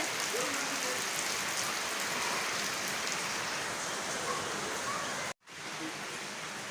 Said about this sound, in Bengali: কি সুন্দর এই যে বৃষ্টি পড়তেছে